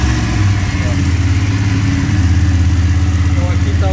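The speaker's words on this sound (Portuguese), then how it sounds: "A moto tem que estar ligada" BMW F850GS Adventure motorcycle engine idling indoors, a loud, close, steady low throb with a rhythmic pulse that swells slightly toward the end.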